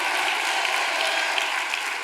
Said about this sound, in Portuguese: Aplauda o Senhor, dê um brado de vitória.